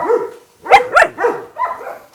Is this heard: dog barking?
yes